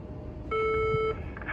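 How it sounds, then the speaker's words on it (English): A single electronic school door buzzer sounds for about half a second, a steady tone over a quiet room, followed by a faint click. "I'm gonna go ahead and hit that buzzer."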